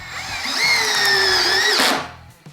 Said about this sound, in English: Hear the clutch engage there, doing its job.